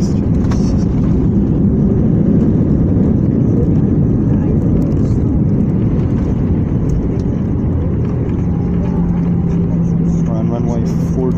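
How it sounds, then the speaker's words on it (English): Airliner engines in reverse thrust just after landing at a New York airport, a loud, steady broadband roar with deep rumble filling the whole stretch, holding strong before easing slightly toward the end as a low tone emerges. "Reverse thrust."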